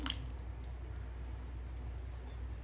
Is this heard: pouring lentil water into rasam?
yes